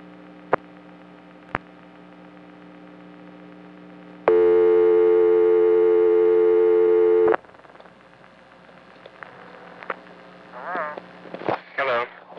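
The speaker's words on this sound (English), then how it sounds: "he'll dial 6, hang up, and ring" A 1976 life insurance company tie-line: a few sharp line clicks, then a loud steady buzzing tone for about three seconds, followed by quieter clicks and warbling ring sounds, with a voice briefly at the end.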